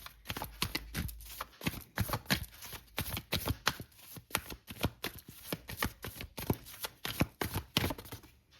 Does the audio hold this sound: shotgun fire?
no